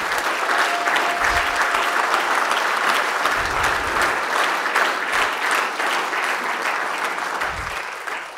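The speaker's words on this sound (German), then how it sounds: "Ich bitte um einen kräftigen Applaus." Sustained applause from a lecture audience at an evening talk and Q&A session on lessons from Corona, steady and dense clapping filling the room for about eight seconds before slowly easing off.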